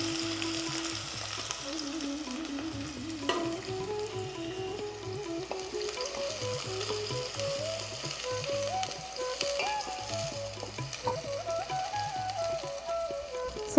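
Onions fry in a pan with cloves and cinnamon, giving a steady soft sizzle and crackle close by. Music plays underneath and nobody speaks.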